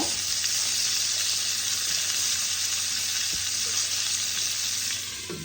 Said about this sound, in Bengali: আমি আঁচ কমিয়ে কমিয়ে ভেজে নেব।